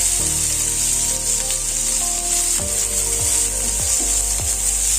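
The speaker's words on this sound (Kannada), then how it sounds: "ಈರುಳ್ಳಿ ಹಾಕೊಂಡು ಒಂದು 2 ನಿಮಿಷ ನೀಟಾಗಿ ಫ್ರೈ ಮಾಡಬೇಕು" Onions frying in oil in a pan for sorekayi (bottle gourd) palya, a loud steady close sizzle with a few scraping stirs of a spatula and no talk.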